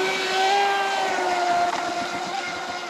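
A Traxxas Spartan RC boat fitted with a wing runs at full throttle, its motor a steady high-pitched whine with a slight rise and fall in pitch, loud and continuous throughout.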